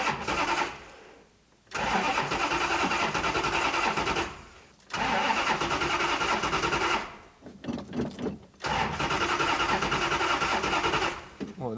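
A mystery auction racecar's starter cranks in long loud bursts, each cut off by a short pause, with a few stuttering tries between them; the engine never clearly catches.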